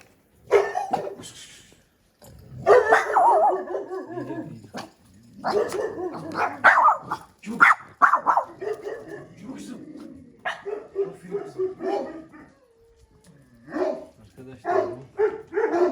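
Dogs bark and yip repeatedly in irregular bursts, close by, mixed with people talking over them.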